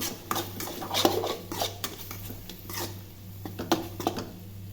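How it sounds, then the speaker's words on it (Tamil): Fish cutlet mixture stirred with a spoon in a metal bowl after a pinch of salt, giving repeated scraping and clinking strokes at close range over a steady low hum, with no talking. "கொஞ்சோண்டு சால்ட்டு மட்டும் போட்டு நல்லா கிண்டி விட்டுப்போம்."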